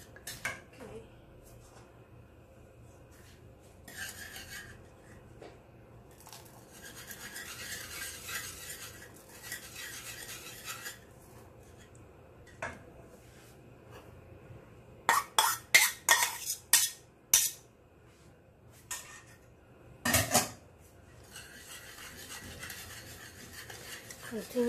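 A spoon stirs mozzarella cheese into white sauce in a pan, soft scraping and rubbing strokes that come in bursts, with a cluster of sharper clinks and taps partway through, quiet and close.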